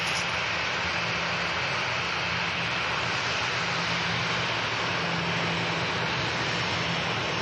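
Ryanair jet airliners taxi at Manchester Airport, a broad continuous engine roar and whine holding steady and loud throughout with no pauses.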